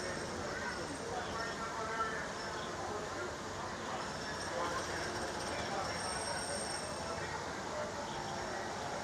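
Disneyland's Tomorrowland monorail station at night: a steady, loud wash of train and station rumble with constant crowd noise and indistinct voices throughout.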